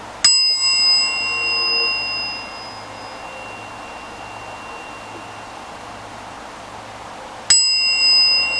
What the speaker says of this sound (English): I'm about to ring this bell in 3,